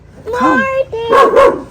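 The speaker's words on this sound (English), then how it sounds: "See, he's barking." A dog barks a few times close by, sharp yaps with a whiny edge, in two short bursts.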